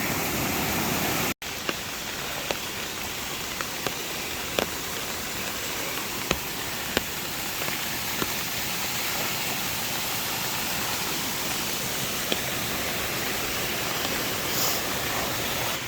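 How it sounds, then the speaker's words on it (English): Raging creek water near Laurel Falls in the Smoky Mountains, a loud, steady broadband roar of rushing whitewater filling the whole clip, close by and continuous, with faint clicks of footsteps or gear scattered through it. "Creek is raging."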